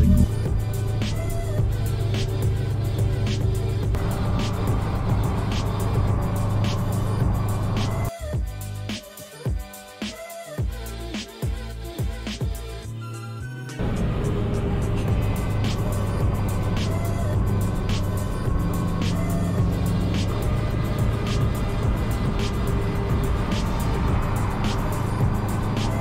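A Subaru STI cruises down the road on a two-hour drive, its engine and tire roar steady and close from inside the cabin, with a rougher, choppier stretch in the middle before the smooth drone resumes.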